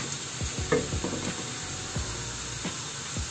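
Nigella and cumin seeds sizzle in hot oil while a spoon stirs them, a steady crackling hiss broken by a few scraping strokes, close and alone.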